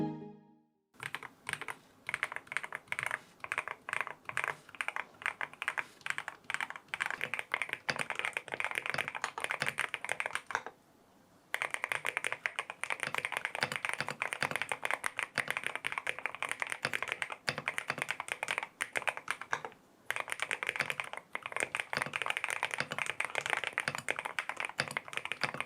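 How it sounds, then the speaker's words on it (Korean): Someone types steadily on a Monsgeek M1W full-aluminum keyboard. The keystrokes are dense, close and clacky, with two brief pauses partway through. "지금부터 타이핑 해볼게요."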